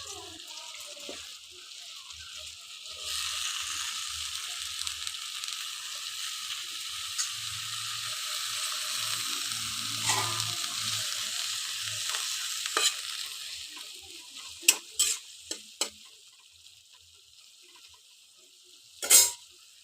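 Chopped bitter gourd leaves go into a fish curry of chuno fish simmering in a pan. A steady sizzle and bubbling hiss runs throughout, broken by a few sharp clinks and knocks near the end.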